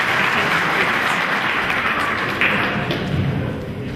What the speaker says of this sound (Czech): já myslím, že to zaslouží potlesk.